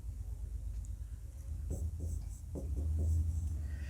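Chalk or a marker writes on a board during a math lesson, producing soft scratchy strokes in short bursts over a steady low room hum.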